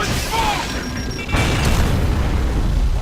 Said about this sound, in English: the detonation for the frag grenade triggers on when it hits something, or when it hits the ground